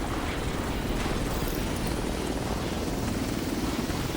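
Helicopter in The Division 2 video game, a dense, steady rotor roar that fills the whole stretch at constant loudness, close and continuous with no talking.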